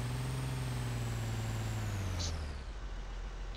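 A heavy vehicle engine drones steadily close by in Arma II, its low rumble shifting slowly downward in pitch, with a thin high whine above it and a brief hiss near the end.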